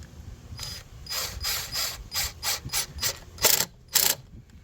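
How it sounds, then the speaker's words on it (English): A 10 millimeter ratchet snugs down hose boot clamps on a 2015 Kia Optima during a starter replacement, producing close, crisp bursts of clicking in quick repeated strokes. "Tighten these hoses back up, or the boots anyway."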